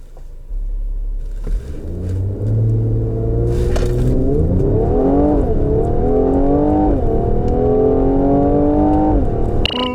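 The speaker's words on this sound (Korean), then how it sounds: "여기서 잠시 GLC 43 쿠페의 가속 성능에 대해서도 한번 알아볼까요?" A Mercedes-AMG GLC 43 Coupe launches hard in a timed acceleration run, its engine rumbling low and then climbing through rising, stepped revs with brief shift dips, loud and close throughout.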